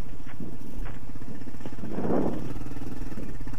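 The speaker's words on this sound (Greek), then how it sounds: "Κάναμε κομβόι 5 μηχανάκια." A convoy of five motorcycles, three Chinese and two Japanese, riding a sandy road in D.R. Congo, their engines humming steadily close by, with a loud wind-buffeted rumble throughout.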